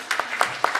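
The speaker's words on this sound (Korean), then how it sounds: "우리 박수로 우리 환영해 주시겠습니다. 박수로 환영합니다." A brief patch of scattered clapping from a church congregation during a Sunday worship service, a few hands in a room, short and irregular.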